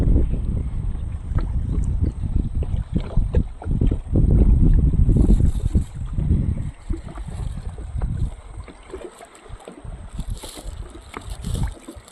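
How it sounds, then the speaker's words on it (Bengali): Strong wind buffets the microphone in loud, rumbling gusts that rise and fall, with river water lapping underneath, in the Sundarbans. "খুব বাতাস উঠেছে আস্তে আস্তে বাতাস উঠে গেছে"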